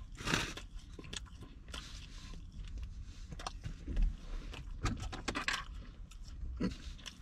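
Someone bites into a black pepper breakfast sandwich with melted cheese and egg, followed by soft close-up chewing and faint crunching.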